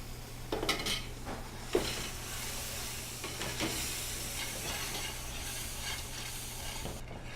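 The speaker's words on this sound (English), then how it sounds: "So the more we add, the more we need to definitely whisk." A whisk stirs warm milk into a roux in a pan with steady scraping and light clinks against the metal, plus a soft background hiss of cooking, with a couple of sharper knocks near the start and no talking.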